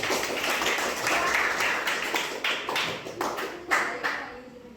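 A school class claps for a student, a moderately loud, slightly uneven round of applause with a few sharper individual claps standing out, fading toward the end.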